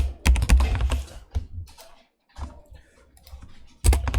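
Typing on a computer keyboard while writing HTML code, close and fairly loud bursts of key clicks with a short pause in the middle and no talk.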